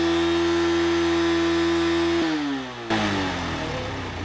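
A vehicle engine after carbon cleaning holds a high, steady buzzing rev, then drops sharply and settles into a rougher, lower running note, loud and close with no talking.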